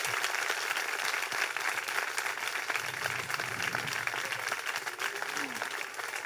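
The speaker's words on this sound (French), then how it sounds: "je voulais qu'on applaudisse aussi les éducatrices de la grande section et l'équipe." Audience applause at a school Mother's Day celebration honoring kindergarten teachers and staff, a steady wash of many hands clapping throughout, moderately distant and fairly quiet.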